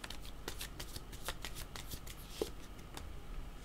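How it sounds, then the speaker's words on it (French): Playing cards shuffled and drawn for a tarot-style reading: a run of quick riffling flicks and soft card slaps, close and fairly quiet, with no talk. "Je vais demander une autre carte en le regardant."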